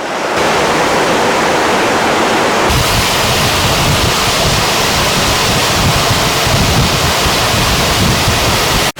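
Yongdam waterfall in Woraksan National Park roars as a loud, steady wash of broadband water noise, continuous and close with no talking.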